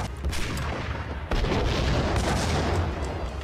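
Heavy gunfire at enemies in Max Payne, dense loud booming shots and rumble that continue without pause, with one sharp burst near the start.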